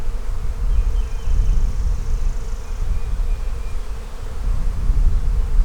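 Honey bees buzz steadily in an open hive full of capped brood and queen cells, a dense low hum filling the whole stretch at close range with no talk over it.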